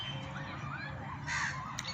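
Crows cawing outdoors in a natural spot, several harsh calls over steady background ambience, with a louder, nearer caw burst toward the end.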